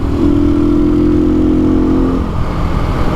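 Templar X motorcycle engine revving up and holding a steady high drone for about two seconds, then easing back to a rougher idle, loud and close with no talking.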